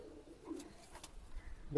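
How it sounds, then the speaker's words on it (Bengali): Pakistani tournament pigeons in a home loft give soft, low coos that come and go at a distance, swelling louder in the final moment. "এখানে কি কবুতর দেখতেছি আমরা"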